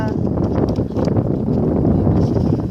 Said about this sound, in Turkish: Ay rüzgar çıktı Berrak.